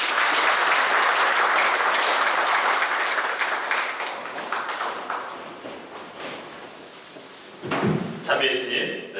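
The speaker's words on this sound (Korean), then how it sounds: "강주석 베드로 신부님을 큰 박수로 모시겠습니다" Audience applause welcoming a Catholic priest to the stage for a lecture, loud sustained clapping that gradually thins out, followed near the end by a few knocks and a brief voice.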